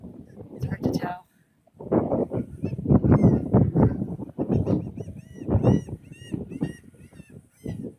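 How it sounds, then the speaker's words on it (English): Laughing gulls call repeatedly in loud, nasal, honking cries over wind noise outdoors on a beach, while a person talks nearby. "Definitely laughing gulls."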